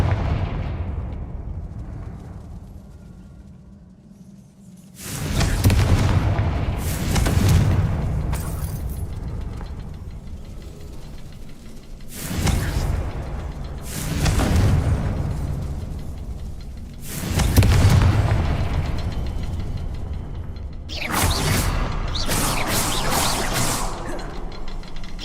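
Fiery explosions from the Confringo spell in a wizarding video game, a series of four or five loud, broad booming blasts a few seconds apart, each decaying into a rumbling tail with no talking.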